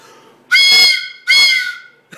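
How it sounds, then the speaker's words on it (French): A three-piece wooden train whistle gives two loud, close, chord-like hoots, each about half a second long and separated by a brief pause, with no talking. "C'est un sifflet de train."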